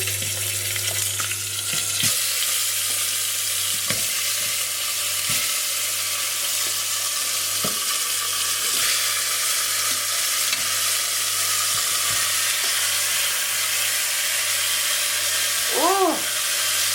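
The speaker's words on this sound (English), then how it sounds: "Hear that sizzling?" Steady, dense sizzling of oxtail frying in hot oil in a pot fills the whole stretch, with occasional faint clinks and a brief voice near the end.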